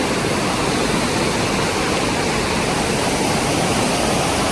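Rushing water pours steadily near a bridge in Wayanad, a loud, close, unbroken roar with no voices.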